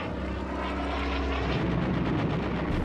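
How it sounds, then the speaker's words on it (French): A British fighter plane flies low overhead during the Second World War attack on Rommel's car, a loud, continuous engine roar swelling closer with rising grit, with no voices. "la voiture de Rommel est prise pour cible par un avion de chasse britannique"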